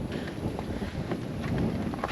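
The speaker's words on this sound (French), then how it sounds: "Parce qu'il y a du vent." Wind blows across a marsh near the beach as a steady, rough, broadband rush that buffets the microphone close up, with no voices.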